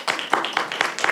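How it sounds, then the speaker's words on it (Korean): A group of students at a meeting clapping briefly, five or so distinct quick claps in an irregular rhythm, close and fairly loud, with nothing else heard. "같이 인사하겠습니다. 박수로."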